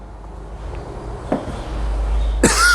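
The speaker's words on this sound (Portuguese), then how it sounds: "já estou tossindo" A person coughing, two short sharp coughs about a second apart over a quiet room background, then a louder burst near the end.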